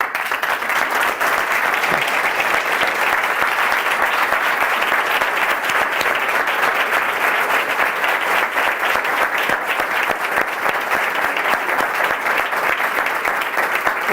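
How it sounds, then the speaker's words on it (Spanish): Sustained, dense applause from a flamenco talk audience fills the whole stretch at steady loudness, many hands clapping together with no voices rising above it. "a los que les pido un aplauso por anticipado"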